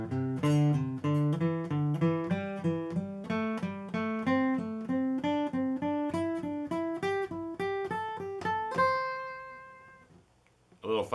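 Pentatonic scale run played in repeating groups of three notes, a quick, even stream of plucked tones climbing steadily higher, then a final note ringing out and fading, close and clear with no talk.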